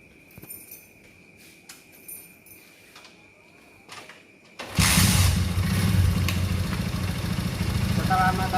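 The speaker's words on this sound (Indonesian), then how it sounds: "Langkah yang pertama kita adalah hidupkan motor" A motorcycle engine starts partway through after some quiet mechanical clicks and handling, then settles into a steady, loud idle that continues to the end.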